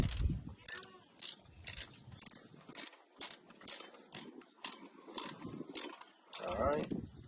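A ratchet snugs bolts on a Ford F150 in quick bursts of sharp clicking, each burst a second or less, repeated about a dozen times with short pauses and some faint background voices.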